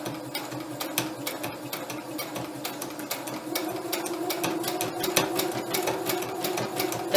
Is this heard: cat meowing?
no